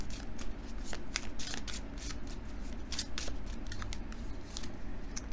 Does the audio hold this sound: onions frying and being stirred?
no